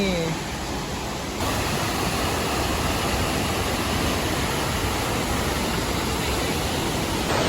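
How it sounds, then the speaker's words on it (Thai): A waterfall roars steadily and loudly, a dense wash of falling water that swells slightly after the first second or so. "โอเคทุกคนก็ถึงน้ำตกแล้ว"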